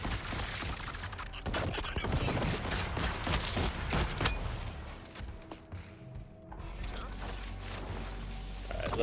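Dense, rapid sniper gunfire crackles through a firefight in the video game Suicide Squad: Kill the Justice League, with repeated loud shots and thuds continuing under excited talk.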